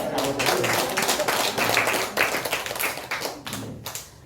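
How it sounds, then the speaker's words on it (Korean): A church congregation claps together during a Sunday worship service to welcome visiting family members, a dense, sustained patter of many hands that fades near the end. "우리 환영의 박수 하겠습니다"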